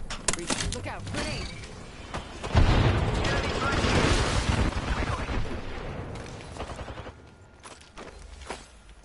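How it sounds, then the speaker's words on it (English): A grenade goes off in the Apex Legends video game, a loud burst of blast and crackling debris amid ongoing gunfire, with voices calling out over the chaotic fight. "Look out, grenade!"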